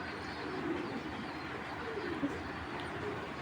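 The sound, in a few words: pigeon cooing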